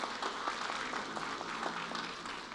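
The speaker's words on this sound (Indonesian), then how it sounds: "Berikan tepuk tangan." An audience at an Indonesian news network's send-off ceremony for its holiday reporting team applauding steadily, a dense wash of many hands clapping at even loudness from start to finish.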